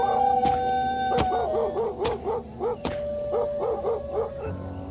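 Several dogs bark in a quick run of repeated yelps, fairly close, set against a steady tonal background hum and a few sharp thuds, used as a sound effect in a narrated Filipino horror story.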